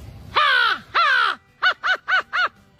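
Vocal imitation of an American crow by a boy: two long, drawn-out caws followed by four quick, shorter caws in a steady rhythm, loud and close-up.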